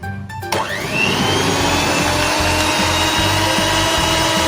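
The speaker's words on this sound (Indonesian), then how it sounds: "Di sini aku mixer dulu dengan kecepatan paling rendah." An electric mixer starts up and whirs steadily at its lowest speed while beating steamed watermelon cake batter, a loud close motor drone with a faint rhythmic churning beneath it.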